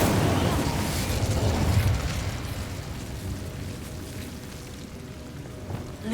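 An Incendio fire spell in Hogwarts Legacy bursts out as a loud, broad crackling whoosh, then fades into a softer, sputtering hiss over several seconds.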